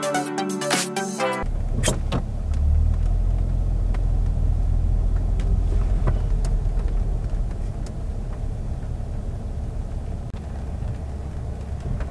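A car drives along the road with a steady low rumble of engine and tyre noise, starting after a brief burst of other sound, with occasional small clicks and knocks from the cabin.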